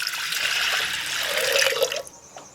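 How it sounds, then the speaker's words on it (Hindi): A lota of water is poured into lentils in a cooker, a steady close splashing gush that runs about two seconds, then stops abruptly with a few trailing drips. No one speaks. "तो हम 1 लोटा पानी डाल लेते हैं दाल में।"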